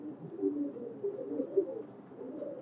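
Red-necked highflyer pigeons on a Khulna pigeon farm give soft, low, throaty coos in a steady overlapping murmur, moderately close, with no other sounds around them.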